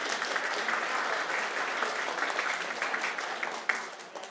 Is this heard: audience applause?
yes